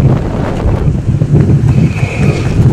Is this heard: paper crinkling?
no